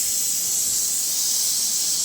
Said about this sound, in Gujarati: બટેકા આપણા બફાઈ ગયા છે તો આપણે એને વઘારી નાખશું.